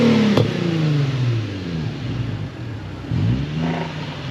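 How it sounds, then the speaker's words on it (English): A drift car's engine revving as it backs out, with loud rising and falling revs, a sharp clatter near the start and another strong rev burst later, close by with no talk. "let's back the car out now"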